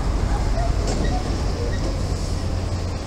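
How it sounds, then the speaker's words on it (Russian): A tram moving off along a street in Valletta, Malta, a loud steady low rumble of the vehicle close by, with street noise and a voice faintly underneath. "Ой, трамвайчик поехал."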